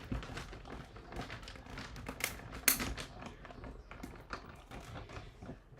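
Scissors cutting out stamped paper flowers, a quiet, close run of irregular snips and paper crinkles with a few sharper clicks.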